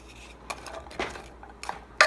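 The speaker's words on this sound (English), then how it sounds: "Then I'm just going to take one of my spatulas and move that around a little bit." Chopped onion pushed around a pan with a spatula during home meal prep, giving a few sparse scraping clacks spaced about half a second apart, with a sharper knock at the end, quiet and close.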